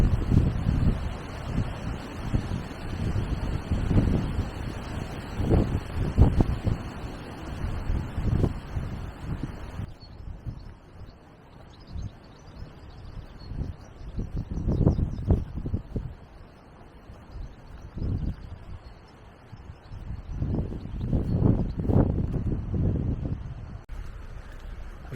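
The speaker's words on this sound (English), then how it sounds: "It's been very wet and windy, on and off, right from the start of the morning." Gusty wind buffets the open air at a canal mooring beside a narrowboat on a wet, blustery day, with irregular surges of low rumbling and microphone buffeting that swell and ease, stronger in bursts toward the end.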